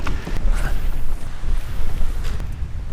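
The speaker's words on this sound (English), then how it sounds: "look how fast this wind is pushing me" Strong wind gusts roar across an open salt pond and creek, buffeting loudly in uneven surges with low rumbling and occasional creaks from a small boat being pushed along.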